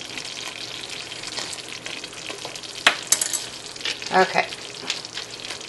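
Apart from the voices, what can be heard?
stirring hot fudge sauce with vanilla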